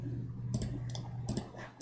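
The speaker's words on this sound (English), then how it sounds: "we can type in the password" Keystrokes on a computer keyboard while a password is entered, a couple of brief clicky bursts of typing over a steady low hum, close and moderately quiet.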